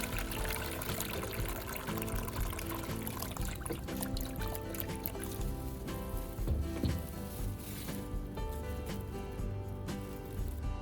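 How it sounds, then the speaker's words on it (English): Rinse water drains from a car battery into a separate container in a long, steady gushing pour with splashy, sloshing texture. It is close and fairly loud, and no one talks over it. "Next, I drain all of the water from the battery into a separate container to complete the rinsing step."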